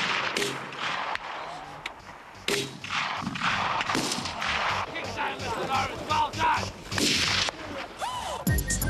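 Live small-arms firing during British military training, a series of loud sharp gunshot cracks at irregular intervals with echoing reports, with voices faintly underneath.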